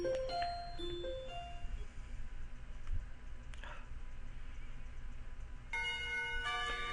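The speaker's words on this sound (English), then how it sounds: "The bell rings" School bell in the Katawa Shoujo visual novel: clear electronic chime tones ring near the start and again near the end over a steady low background hum, with no talking.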